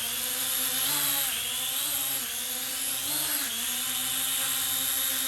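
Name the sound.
Dynalog DR-DF100B drone doing high-speed rotation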